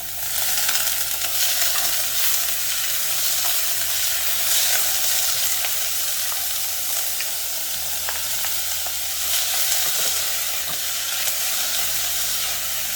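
Frozen sweetcorn sizzles in a pan with garlic and green chili for a sweetcorn and cheese samoosa filling, a steady loud hiss and crackle throughout as water cooks off, with no talking.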